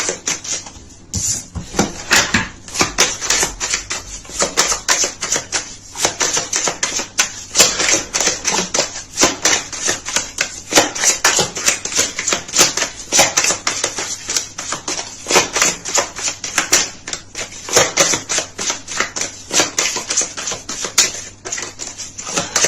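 Tarot cards being shuffled, a long run of dense, rapid papery flicks and riffling clicks, close and fairly loud, with no talk.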